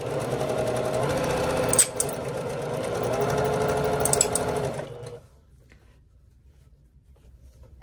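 A sewing machine runs steadily, stitching a seam on a quilt made from bandanas, whirring loud and close for about five seconds before stopping into near silence.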